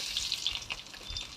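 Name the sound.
mustard seeds spluttering and garlic frying for tempering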